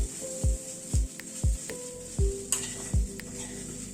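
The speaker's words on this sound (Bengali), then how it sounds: "ডালটা এরকম করে একটু নেড়ে নেড়ে দিয়ে কষাতে হবে।" Lentils (dal) stirred and fried in a pan on a gas stove, a steady sizzle broken by regular scraping strokes about every half second, close and fairly loud, with no talk.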